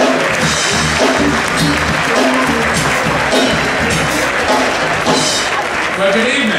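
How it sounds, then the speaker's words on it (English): An audience at a party for Hillary gives Mayor Bloomberg a round of applause, heard as a continuous wash of clapping with a voice talking prominently over it. "let's all give him a round of applause"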